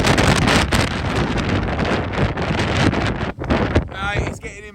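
Strong wind buffets the microphone on bleak moorland, a loud continuous roaring rumble with gusty surges that eases briefly near the end.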